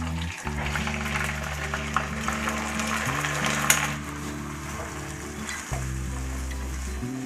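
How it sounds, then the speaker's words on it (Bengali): Soaked rice for chicken pulao fries and is stirred in a pan, giving a steady crackling sizzle with scraping strokes. Low musical tones run under it throughout. "চালটাকে আমি একটু ভাজা ভাজা করে নেব।"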